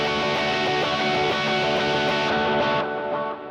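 An electric guitar chord is played with string muting, sounding as a steady, slightly distorted sustained chord that holds evenly and then tapers off near the end.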